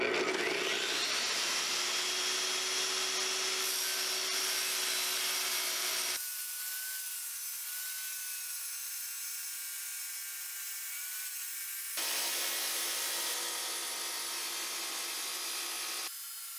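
An IQ tile saw cutting a miter into glazed tile gives a steady high-pitched whine with grinding. The pitch drops partway through, then rises again before the cut ends.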